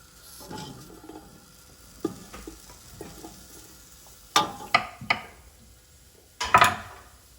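Sausage for cornbread stuffing frying in a pan, a soft sizzle underneath sharp scrapes and clacks of a utensil stirring and knocking against the pan, close by and with no voices.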